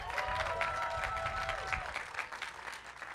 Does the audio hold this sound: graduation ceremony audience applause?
yes